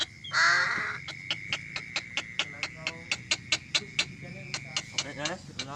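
A crow caws in a long series of sharp, evenly spaced calls, starting with a drawn-out cry and then repeating steadily and fairly close, with faint background noise underneath.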